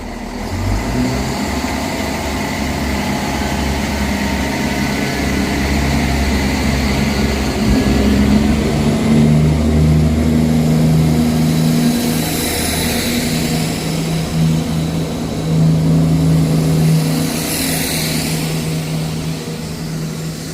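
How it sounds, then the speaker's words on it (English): A delayed ScotRail service to Perth pulling out of Inverkeithing station, a loud diesel engine rumble rising as it accelerates, with shifting low tones and faint rail squeals, close by and unbroken for twenty seconds. "Departing out now is a delayed 1100 Scotrail service from Edinburgh Waverley to"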